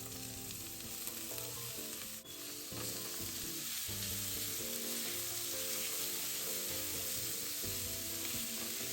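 Shrimp and yam bean stir-fried in a wok, with a steady loud sizzle and the scrape and toss of stirring throughout, no voices.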